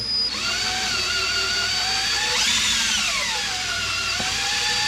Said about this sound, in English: We're just going to drill this rivet out of here.